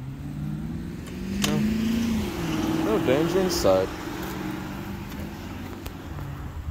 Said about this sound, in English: Oh no, there's a car.